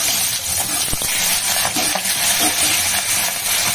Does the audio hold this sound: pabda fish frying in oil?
yes